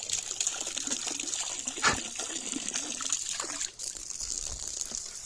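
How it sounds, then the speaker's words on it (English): A dog laps water quickly from a bowl indoors, making rapid wet splashing and slurping sounds that continue close up for several seconds. "He drinks water so fast."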